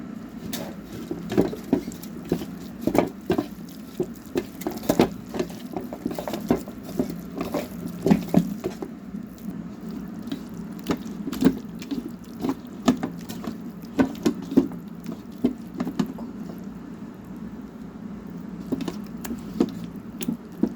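Flour and rice-flour dough with spices for potato chapti is kneaded by hand with water, making rhythmic wet squelching and patting sounds close up, repeated steadily, with no voices.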